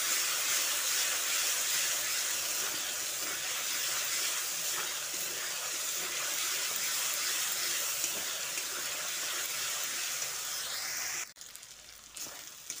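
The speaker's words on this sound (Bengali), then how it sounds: "আদা, রসুন ও কাঁচা লঙ্কার পেস্টটা দিয়ে আরও 2 মিনিট ভেজে নিচ্ছি।" Ginger, garlic and green chilli paste frying in a pan, a steady loud sizzle and hiss that runs unbroken for most of the time before it suddenly drops away near the end.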